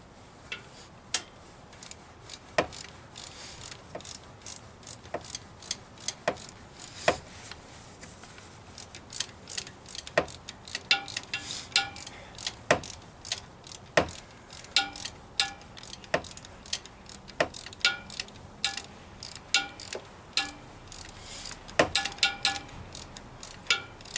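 A ratchet wrench clicks steadily as it tightens a spark plug on a 1989 Buick Reatta, giving close, crisp ticks at an even rhythm with brief pauses between runs of turns, and no one talks.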